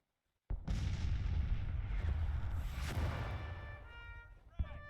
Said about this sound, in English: Counter battery fire